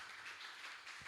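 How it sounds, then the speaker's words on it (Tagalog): A church congregation claps during a Sunday celebration service, a faint, diffuse wash of applause that swells and fades over about a second. "Pwede ba hatagan na ito kusog nga palakpak si Jesus?"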